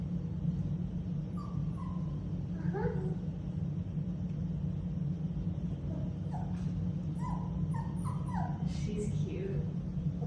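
A puppy whimpers and yips in soft, scattered little cries over a steady low hum, with people speaking nearby.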